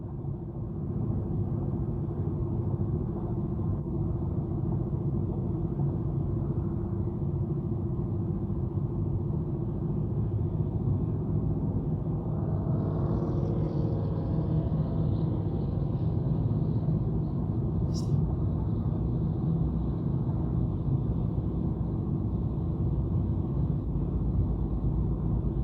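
A car's interior fills with a steady, loud low rumble of road and engine noise throughout a long, even drive, with a faint swelling whoosh partway through, as if another vehicle passes.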